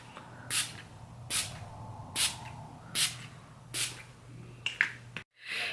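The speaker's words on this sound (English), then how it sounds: "Now I'm setting my face with e.l.f.'s Makeup Mist and Set Spray." e.l.f. Makeup Mist and Set Spray is misted onto a face in six short, evenly spaced hissing spritzes, close and crisp, with quiet pauses between them.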